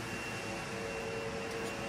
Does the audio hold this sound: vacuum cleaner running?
yes